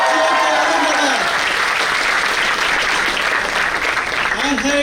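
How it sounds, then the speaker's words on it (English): A student audience at a national chartered accountancy conference claps and cheers loudly, continuous dense applause with whoops throughout, while a voice carries on over the crowd. "Guys, let's cheer for Aurangabad."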